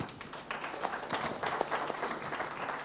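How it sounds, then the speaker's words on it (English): Fairly quiet applause for panelists at a youth engagement forum, a modest number of hands clapping unevenly at a distance. "Let's give them a round of applause."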